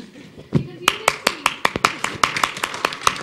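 At a film team press meet in Hyderabad, a run of about a dozen crisp, evenly spaced claps rings out close and loud, with a voice briefly heard at the start.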